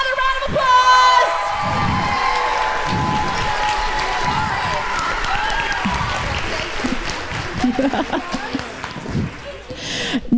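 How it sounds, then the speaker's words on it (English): A school audience at a Willy Wonka stage production at King's Christian Academy breaks into loud applause for the cast, mixed with cheers, whoops and children's shouts, sustained throughout. "Can we give them another round of applause?"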